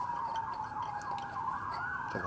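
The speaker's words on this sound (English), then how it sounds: "Sounds like police this time, not ambulance." A police siren wails steadily, its pitch sweeping up and down in a continuous rising and falling tone, fairly loud and with no one speaking.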